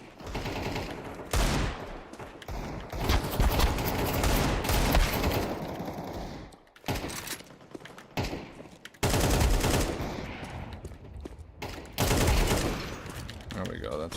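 Gunfire in a video game, dense bursts of rapid automatic shots in long loud stretches separated by brief pauses, with a voice talking over parts of it.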